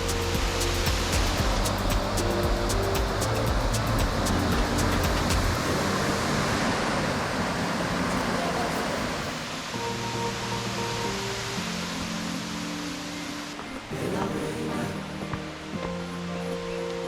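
Erawan Falls in Thailand, with water crashing onto rocks in a continuous loud broadband rush that eases slightly partway through.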